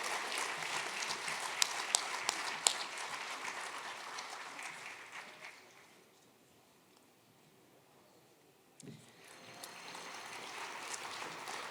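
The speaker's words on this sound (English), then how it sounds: "can you all give her another round of applause as they receive the award" Applause for award recipients at a Greenwood Chamber winter gala, broad crowd clapping that fades out midway, leaves a near-silent lull, then swells back up with a sharp knock.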